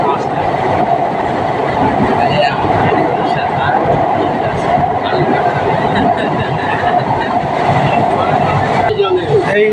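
A Kolkata Metro Blue Line train runs in the tunnel beneath the Ganga river toward Howrah, producing a steady, loud rumble and rattle of the carriages, with passengers chatting throughout.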